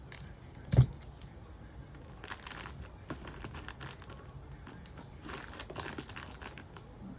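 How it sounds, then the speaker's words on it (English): Tape being torn and handled while an Easter gift basket is wrapped, giving faint, scattered crinkling and tearing rustles with a sharper snap near the start, close by and quiet. "Let me get another piece of tape."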